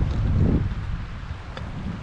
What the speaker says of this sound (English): It's a bit windy and blustery now